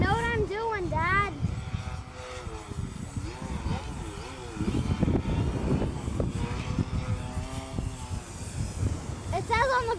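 A radio-controlled 3D aerobatic model airplane flies nearby, its propeller engine droning steadily and rising and falling in pitch as it maneuvers, while people talk over it throughout.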